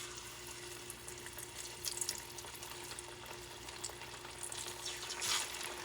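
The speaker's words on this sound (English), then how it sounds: "I'm going to start adding the" Ripe plantains fry in about a quarter inch of hot oil, a continuous soft sizzle and bubbling with faint crackles throughout, heard close and without any speech.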